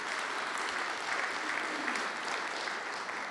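A conference audience at a keynote applauds steadily, a dense wash of clapping from a large hall with faint cheering mixed in, heard at a moderate distance throughout.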